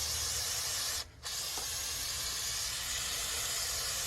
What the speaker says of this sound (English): I'll spray this down